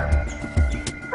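Police assault dogs of an elite unit barking, two short deep woofs in quick succession, close and fairly loud.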